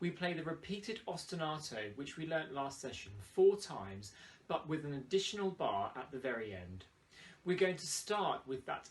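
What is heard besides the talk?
No everyday noises stand out.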